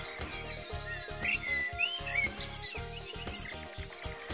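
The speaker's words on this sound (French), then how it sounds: "Un merle noir atteint de leucisme." A partly white, leucistic common blackbird gives a few faint chirping notes at a care home, heard only in brief snatches beneath louder rhythmic music.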